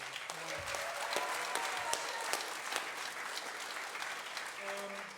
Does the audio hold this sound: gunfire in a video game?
no